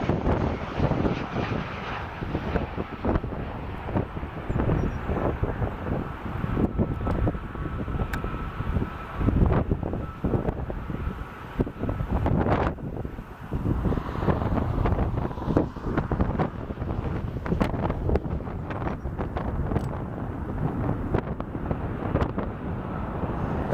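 Strong wind buffets the microphone steadily for the whole stretch during plane spotting at Portland airport, a loud broadband rumble with gusty surges and no talking.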